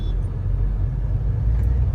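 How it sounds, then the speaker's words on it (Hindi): Traffic inches along a jammed mountain road toward Nainital, a dull low rumble of idling and creeping vehicles filling the air steadily, fairly soft and without nearby voices. "गाड़ी खिसक खिसक के जा रही है।"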